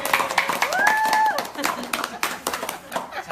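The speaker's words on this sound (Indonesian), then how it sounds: "Tepuk tangan dong" A live audience claps along in bursts at a talk about the Paytren business, with a voice and a brief pitched tone over the clapping, and laughter mixed in.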